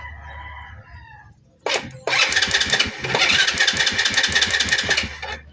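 A motorcycle being troubleshot for not starting cranks briefly, then its engine catches and runs with a loud, rapid, sputtering idle, heard up close with no talking.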